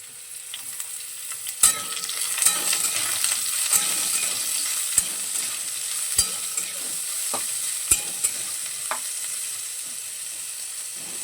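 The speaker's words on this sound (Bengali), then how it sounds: "মূলোটাও হালকা একটু ভেজে নেব" Radish and potatoes fry in a pan with a continuous soft sizzle, broken by sharp clicks and taps of a utensil against the pan every second or two, close and steady with no speech.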